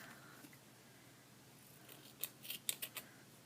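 Scissors snip through fuzzy synthetic doll hair near a rubber band, a few crisp close cuts clustered toward the end after a quiet start.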